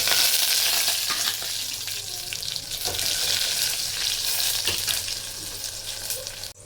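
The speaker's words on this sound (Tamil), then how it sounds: "கடுகு பொரிஞ்சதுக்கப்புறம் நம்ம கட் பண்ணி வச்சுருக்கிற வெங்காயம்," Onion and green chili hit hot oil with popped mustard seeds for rasam, giving a bright, steady sizzle with occasional stirring scrapes, close and loud at first before settling slightly.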